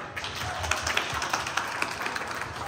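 An audience at a New Year friends-and-family night in New York applauds, with scattered, uneven claps at moderate distance and no voices over them.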